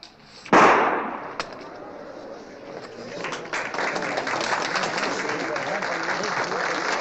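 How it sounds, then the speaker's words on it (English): A burst of gunfire in a western TV episode, one sharp loud shot followed by a dense rush of crackling pops and noise. "That's shooting, man. That's real shooting."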